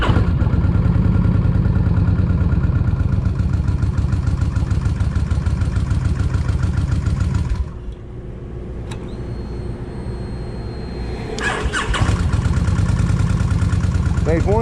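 A Kawasaki Vulcan 1600 motorcycle engine with a wet-plug fault runs loud and steady nearby, cuts out for a few seconds, then picks back up to the same strong idle.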